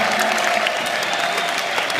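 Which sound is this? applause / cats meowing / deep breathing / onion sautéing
applause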